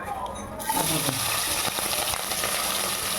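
Whole spices frying in hot oil, a steady close crackling sizzle that fills the pan continuously after a brief quieter moment at the start.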